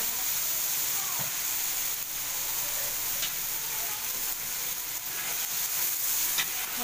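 Eggs sizzle in hot oil in a hostel kitchen, a steady bright hiss with occasional pops and a scrape of a utensil, close and continuous.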